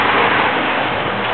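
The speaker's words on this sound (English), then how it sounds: "Noisy old truck." An old truck's engine gives off a noisy, broadband rumble, steady and moderately loud throughout with no voices.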